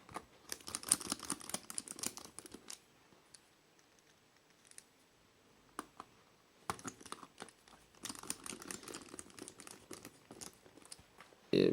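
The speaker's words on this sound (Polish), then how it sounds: "I przykręcamy wszystkie 6 śrubek." Six small screws driven into a Nokia 6610i handset while the keypad board and display frame go on over the mainboard, heard as close, quiet clicks and scrapes in two clusters with a quieter gap between.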